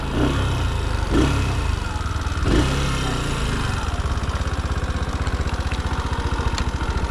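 A motorcycle on a licence test course starts up and settles into a close, steady idle with a regular low chugging pulse.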